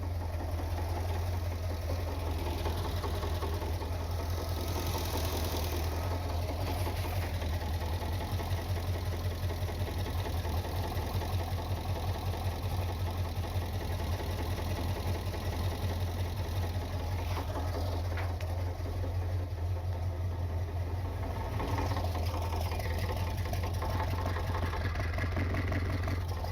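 Engine of a 1979 Corvette idling with a steady low exhaust rumble, continuous and fairly close, with a faint vibrating rattle and no speech.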